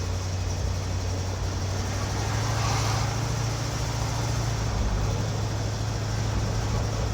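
A 1947 Chevrolet Fleetline cruising at highway speed, heard as a steady low engine drone with road and wind rush, swelling briefly midway, continuous with no talking.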